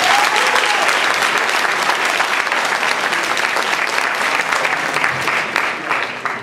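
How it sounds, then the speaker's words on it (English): A large conference audience at a Toastmasters district business briefing applauds in a loud, dense, continuous wash of clapping that fades slightly toward the end. "So give yourselves a round of applause."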